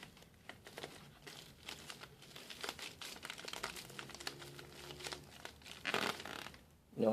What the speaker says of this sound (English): Now you're going to remove the tape again